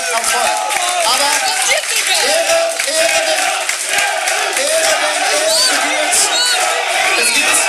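A crowd at a darts match claps and cheers loudly and continuously, while an announcer's voice carries on over the applause.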